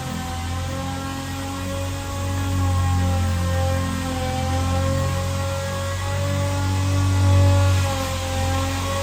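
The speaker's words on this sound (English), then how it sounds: "sanding away" A steady, droning power-tool whir sanding a 1970 Ford F100 truck door runs throughout with a constant hum, loud and close, rising slightly midway; no voices.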